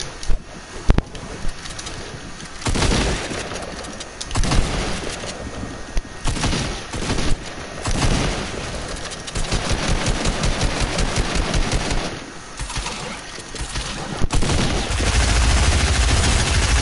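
Rapid SMG gunfire in a Fortnite match, repeated loud bursts of fast rattling shots broken by short pauses, sounding close and filling the whole stretch.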